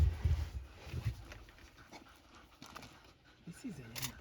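African wild dogs at a buffalo kill in Lower Zambezi National Park, Zambia, pant in low, quick breaths, then let out a thin rising whimper, fairly near, with people talking quietly over them.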